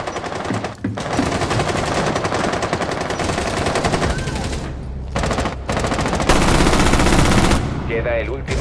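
Automatic gunfire in Rainbow Six Siege, loud and close in long sustained bursts with short breaks between, under occasional voices.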